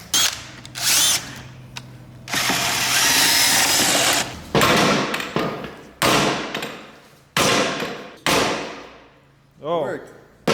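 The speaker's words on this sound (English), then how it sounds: "we're gonna hopefully be using drill bits and just drilling into the rubber" Power drill whining in repeated bursts as it bores into rubber on a Nissan 240SX, with one long sustained run and several short pulses separated by pauses, close and loud.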